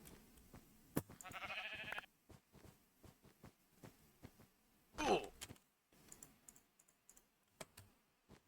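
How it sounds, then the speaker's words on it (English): A sheep in Minecraft gives two short bleats, one early and one louder midway, among frequent close computer keyboard typing and clicks. "Oh, there's a sheep."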